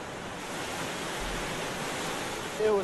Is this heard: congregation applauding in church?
no